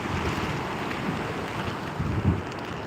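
Continuous rushing of water tumbling between rocks at Mundakkai, Kerala, a dense, steady roar close by with slight surges.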